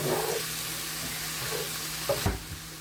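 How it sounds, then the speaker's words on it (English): Zucchini and garlic stirred in a hot frying pan, a steady sizzle with soft scraping and a brief clunk of the utensil against the pan near the end. "and then I give everything a stir"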